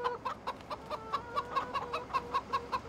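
A game chicken in Farming Simulator 2015 clucks in an even, rhythmic run of about a dozen short clucks, close and clear, with no talking.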